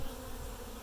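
Honeybees buzz in a steady, dense hum at a hive early in the morning, a swarm collected days before and newly installed, flying orientation flights close by with no voices.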